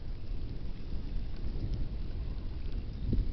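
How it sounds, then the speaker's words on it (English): Distant thunder from a storm about 30 miles away rumbles low and steadily for a few seconds over a farm during severe weather, with faint rain-like hiss and no voices. "Still hear the thunder."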